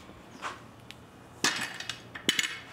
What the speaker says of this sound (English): We're just gonna move some of the equipment.